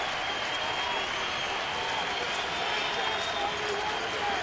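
Baseball stadium crowd rising and applauding during a Kansas City at Oakland game, a steady dense roar of clapping and cheering that holds at an even level throughout.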